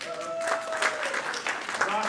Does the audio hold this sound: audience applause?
yes